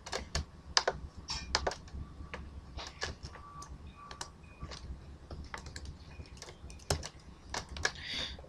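Computer keyboard typing while entering a computer name during an Ubuntu installation: irregular, close keystrokes in short bursts and single taps over a quiet room background.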